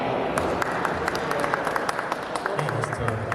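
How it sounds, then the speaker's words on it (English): Audience clapping, a light scatter of hand claps under steady crowd murmur and voices, fairly faint and somewhat distant throughout. "Shawn Michaels, clap your hands."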